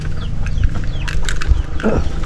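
Several chickens cluck and squawk nearby in short bursts over a low steady hum.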